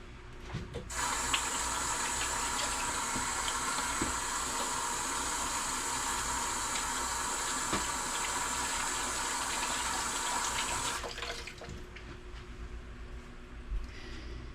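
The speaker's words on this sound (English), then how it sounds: "Wash your hands." Hands are washed under a kitchen tap while preparing meatloaf: a steady, loud rush of running water lasting about ten seconds, then an abrupt cutoff followed by quieter sink and handling sounds, with no talking.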